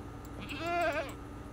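A single wavering goat bleat from the video game Minecraft rises and falls over about half a second against a low background hum, fairly close.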